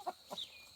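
Two short, soft clucks from chickens being fed, close by and quiet.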